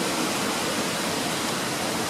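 Heavy water flow pours down a waterfall in a dense, steady roar, loud and close, with no voices over it.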